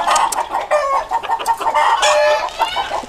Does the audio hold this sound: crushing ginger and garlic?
no